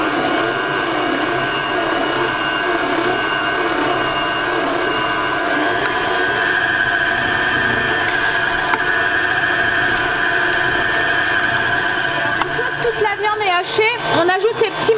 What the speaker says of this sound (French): commencer à hacher du coup en commençant par la viande et en mettant des morceaux d'oignon entre deux pour aider l'oignon à se hacher